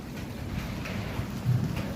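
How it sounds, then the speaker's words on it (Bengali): Strong wind and rain from a dark thunderstorm sky give a steady, low roaring wash with gusty rumbling that swells briefly, heard outdoors without any talking. "দেখো আকাশের কি অবস্থা, দেখছো প্রচন্ড পরিমাণ বাতাস তুফান"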